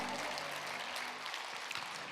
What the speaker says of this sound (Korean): 하나님께 영광의 박수 드리겠어요